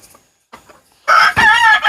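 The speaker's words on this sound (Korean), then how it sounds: "아마 수탉이지 않을까 이렇게 생각이 됩니다" A young rooster hatched and raised in a mixed flock crows once, loud and close, after a few faint clucks and rustles.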